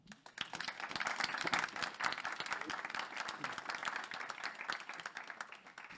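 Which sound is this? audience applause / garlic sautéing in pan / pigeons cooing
audience applause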